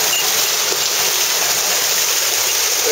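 A mountain waterfall in Japan, heard up close as a steady, loud rush of falling water with a constant hiss and no breaks or voices.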